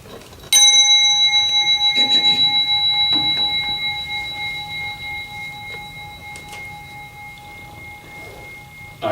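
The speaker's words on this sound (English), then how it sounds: "I got to ring the bell." A meditation bell struck once, a clear bright ring with a sharp onset that hangs and slowly decays over several seconds in a quiet room, with faint background rustle.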